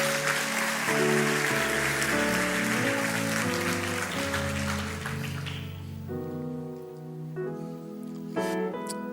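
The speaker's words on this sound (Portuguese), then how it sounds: "dê o melhor aplauso que você pode dar ao Senhor" A church congregation applauds loudly through a Sunday evening service, the clapping layered over sustained keyboard or organ chords, then fading after about six seconds while the music carries on alone.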